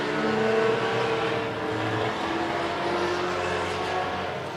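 A race car, number 18 in a heat race, drones loudly with a possible misfire, giving a steady engine roar from start to finish with no voices over it.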